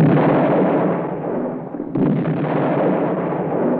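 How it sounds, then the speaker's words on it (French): Cannon battery firing in a 1970s Western film, a dense rumbling boom that decays, then a second blast about two seconds later rolling on into a sustained low roar. "La batterie du canon continue à tirer inexorablement"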